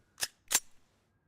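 Two crisp, quick metallic clicks of rounds being pressed into a Luger magazine in DayZ, close and clean with no talk.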